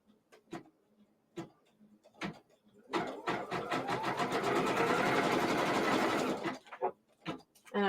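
A sewing machine stitches down a machine-embroidered quilt block in a steady, rapid whir of about three and a half seconds, bracketed by scattered close taps and handling clicks before and after.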